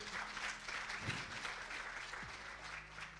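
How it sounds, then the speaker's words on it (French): Steady applause from a crowd, a continuous dense patter of clapping that holds at an even level throughout. "On l'applaudit encore,"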